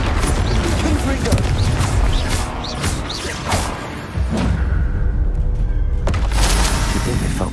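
Confringo fire-spell blasts in Hogwarts Legacy, several thumping explosions and whooshes in dense game noise, with a person talking over them.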